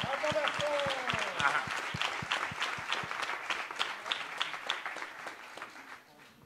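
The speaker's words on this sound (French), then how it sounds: "Et je crois que vous pouvez les applaudir très très très très fort." An audience at a Grand Raid press conference breaks into dense, sustained applause, with several sharp close claps standing out. A voice speaks briefly over the start, and the clapping thins and fades toward the end.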